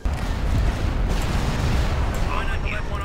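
Continuous heavy rumbling blasts of ion cannon fire in a space combat video game, dense and loud throughout, with some high whooshing tones near the end.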